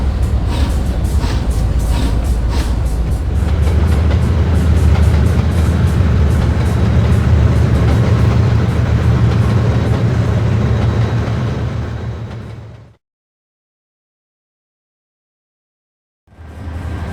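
A J Class steam locomotive train rumbles loudly and continuously for about twelve seconds, then cuts to silence before the rumble returns near the end.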